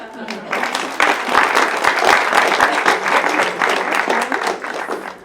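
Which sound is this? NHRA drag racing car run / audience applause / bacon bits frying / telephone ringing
audience applause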